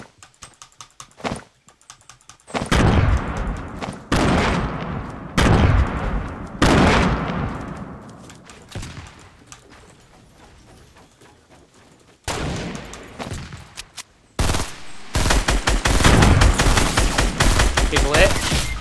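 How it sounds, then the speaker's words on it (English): Repeated sharp sniper rifle cracks and gunfire bursts in a multiplayer shooter game, loud and close with heavy reverb tails, mixed with clattery keyboard typing, and brief talk in between. "someone's sniping at us"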